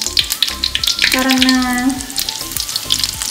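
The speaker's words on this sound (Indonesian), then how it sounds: "Dan mau goreng udang." Shrimp frying in a pan on a home stove, a loud continuous sizzle with bursts of spattering and a brief tonal hiss in the middle, while a person speaks briefly over it.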